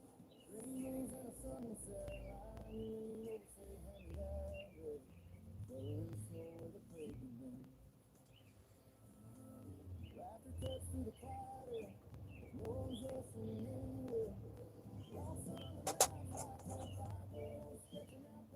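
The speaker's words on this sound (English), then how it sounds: "maybe you can hear the birds. They're going crazy out there." Birds chirping and cooing outdoors, faint and distant, with repeated short calls scattered through the clip beneath a low background hum and occasional soft rustling.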